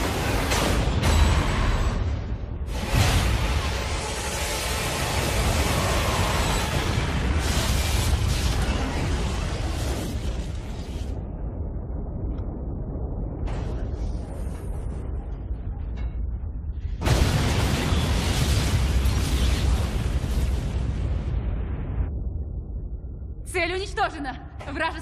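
A wave cannon firing in a Russian-dubbed space sci-fi film, a long roaring blast of dense rumbling noise with booming surges, then a second roar and a sweeping electronic sound at the end, with voices underneath.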